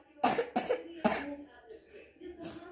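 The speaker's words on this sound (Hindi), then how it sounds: "खांसी हो गई" Three sharp coughs in quick succession, close by, followed by a short pause, then quieter murmuring and a faint voice.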